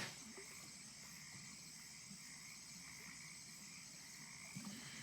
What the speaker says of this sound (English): we have crickets on our stream. Swamp sounds.